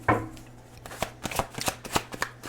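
Tarot cards from two combined decks being shuffled by hand, a rapid run of papery riffles and taps close up, following one louder initial flap of the cards.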